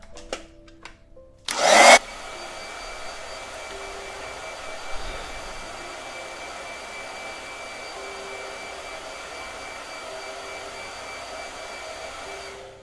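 Blow dryer switching on with a short loud burst, then running as a steady, close whirring drone for many seconds, preceded by a few faint clicks and handling sounds.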